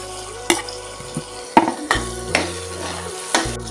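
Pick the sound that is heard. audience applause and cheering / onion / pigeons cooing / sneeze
onion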